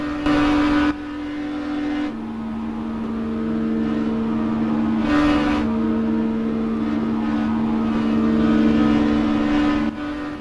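Williams FW15C Formula 1 car with continuously variable transmission starting off, its engine holding a loud, steady, near-constant high drone with little rise or fall in pitch, close and continuous for about ten seconds.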